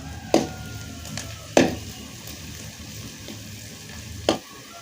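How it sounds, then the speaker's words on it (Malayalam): Sliced onion frying in hot oil in a pan, a steady close sizzle broken by three sharp scraping clacks of a stirring spoon, no talking. "ചൂടായ എണ്ണയിലേക്ക് സവാള എരിഞ്ഞത് ചേർത്ത് കൊടുക്കണം"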